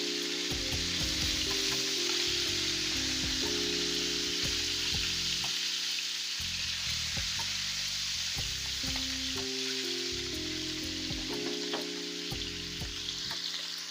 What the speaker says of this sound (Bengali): বেশি একটা ভাজবো না, ডিমগুলো হালকা একটু ব্রাউন কালার করে নেব।